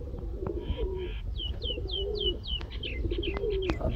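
Sialkoti pigeons give repeated soft, throaty coos and rolling calls close by, over a low background rumble.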